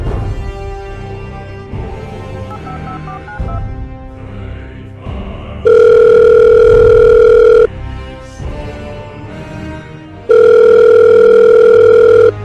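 Telephone tones sound through a tense gangster scene: steady, loud dial-tone-like bursts ring out twice, each about two seconds, over a low murmur of background music.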